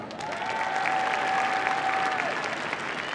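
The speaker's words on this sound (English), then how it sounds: "give a great big round of applause for Denmark" An audience at the Crufts dog show agility competition applauds continuously, a dense wash of clapping that stays steady for a few seconds, with a faint tone running beneath it.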